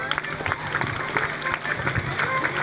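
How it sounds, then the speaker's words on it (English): School assembly audience clapping for a student performance, a busy moderately loud spread of hands with crowd noise and voices mixed in. "Please give them good clap."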